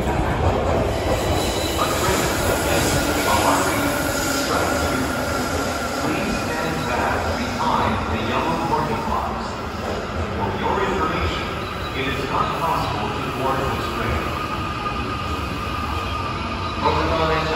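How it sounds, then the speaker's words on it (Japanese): A Tokyo Metro Chiyoda Line train rumbles into Omotesando Station with steady rolling noise and brief high wheel squeals, while a recorded Japanese announcement plays over the platform. "まもなく岩津に電車が参ります。"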